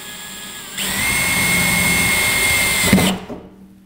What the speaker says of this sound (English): We'll use our 13/64 drill, and we're just going to get that lined up on center, and then drill our hole